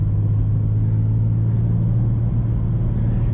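A 2023 BMW M2 manual engine in sport mode rumbles loud and steady with a deep, even drone, close by and without any talking.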